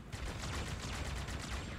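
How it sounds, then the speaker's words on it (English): Carbine gunfire in a Halo video game, a rapid run of evenly spaced sharp shots that is loud and close with no talk over it. "This might just be sort of like a non-needler carbine, I guess."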